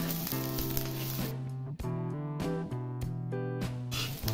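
Green chilies and garlic roasting in a pan for Kolhapuri kharda, giving a steady close sizzle and crackle with sharp spitting pops at intervals and bursts of hiss.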